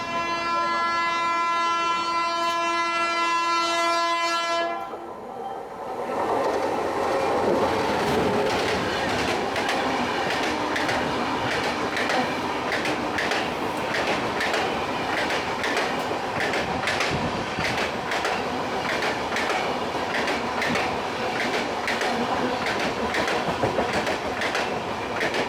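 An express train, the Karnataka Sampark Kranti Express, rushes past at speed. It opens with a long, loud horn blast, followed by a steady roar and rapid clickety-clack of wagons that stays close and loud throughout.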